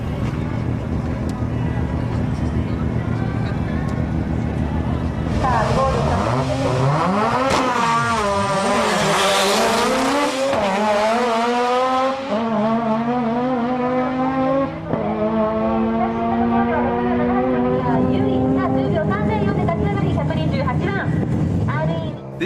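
Mazda RX-7 fitted with a T88 34D turbo drag racing on the Sendai street drag track, a loud engine wailing up through rising gears, with a commentator speaking over it.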